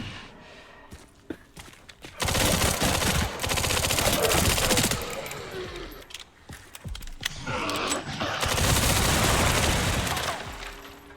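Rapid bursts of gunfire from the first-person zombie shooter Resident Evil 9 on Classic difficulty, dense sustained volleys in two long stretches separated by a brief lull, loud and close with scattered single shots between.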